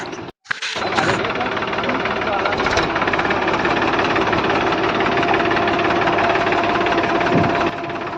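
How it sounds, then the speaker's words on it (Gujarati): A tractor engine runs close by with a loud, steady rough chugging hum that holds for several seconds after a brief start, with voices talking over it. "આજ પહેલી વખત ટ્રેક્ટર ચલાવ્યું"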